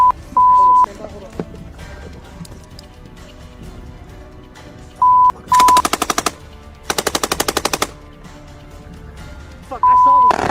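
Loud, rapid bursts of automatic gunfire ring out during a video game shootout: a short burst, a longer rattling stretch, and then another sustained volley. Short beeps sound between the bursts, and people talk throughout.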